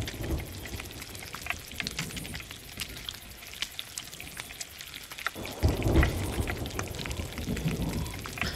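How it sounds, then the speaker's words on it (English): Steady rain pours in a Sea of Thieves thunderstorm at sea, with thunder rumbling low and swelling into a louder roll midway, with no voices over the constant hiss of falling water. "I hear that storm is intimidating. Yeah, I can hear it a little bit"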